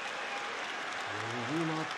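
Sumo crowd applauding after a wrestler is thrown out of the ring, a steady wash of clapping through the whole clip, with a low voice entering partway through.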